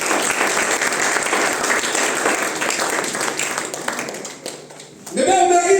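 A church congregation applauds to acclaim the Lord, with dense, loud, sustained clapping filling the space. The applause dips briefly near the end, then surges back, with voices mixed in.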